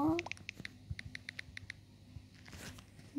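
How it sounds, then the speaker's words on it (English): Fast computer keyboard typing during an online Among Us game, a quick run of light clicks and taps heard beneath the faint voices of players. "are you typing in the chat?"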